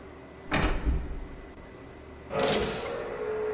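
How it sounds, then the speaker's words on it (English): Two broad mechanical whooshes in the video game Riven, a door sliding shut and then another sliding motion, moderately loud over a low steady hum. "I think that's the sound of the door closing on the other side."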